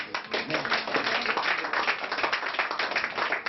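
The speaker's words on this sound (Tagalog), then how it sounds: "Ating pong alay ng palakpak ang ating Panginoon." A church congregation claps together in sustained, dense applause that fills the room steadily from start to finish, loud and close.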